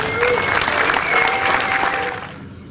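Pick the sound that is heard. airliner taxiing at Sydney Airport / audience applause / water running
audience applause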